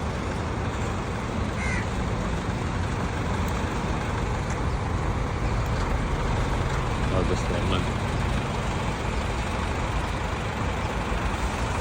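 Pancaran Matahari double-decker bus travelling at night from Kuala Lumpur's TBS terminal toward Johor, a steady loud low engine and road rumble filling the cabin, with someone speaking briefly over it.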